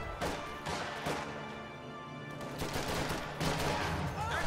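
Rifle shots and impacts in a WWII strategy video game, with several sharp cracks spread through a steady din of battle noise.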